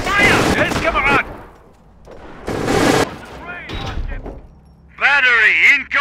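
Close bursts of gunfire crack in a Company of Heroes battle in 1944, with heavy volleys and short pauses between them, and soldiers shout over the shooting.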